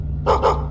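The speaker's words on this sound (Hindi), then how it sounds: "कुत्ते भी उसके तरफ भौंक रहे थे।" Dogs on a night-time city street give two quick, loud barks in close succession over a steady low hum.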